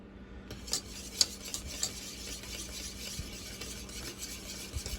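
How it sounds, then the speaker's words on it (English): Bourbon caramel is stirred in a pot at a gentle simmer, a soft continuous bubbling hiss punctuated by light scraping clicks of a utensil against the pot, quiet and close. "Keep stirring."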